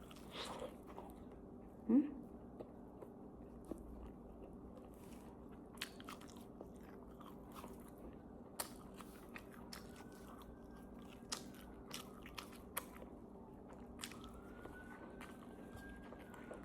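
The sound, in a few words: biting and chewing homemade egg bread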